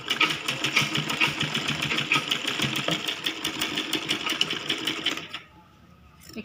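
A sewing machine stitches cloth for a child's lehenga in a fast, steady whirring rattle for about five seconds, then stops abruptly.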